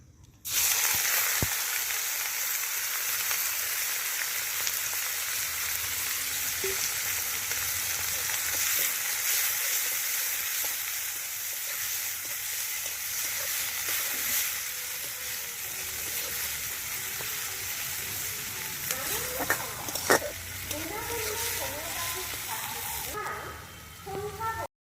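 Chopped onions fry in a pan in a village kitchen, giving a dense sizzle that holds steady for most of the stretch, with a few clatters near the end.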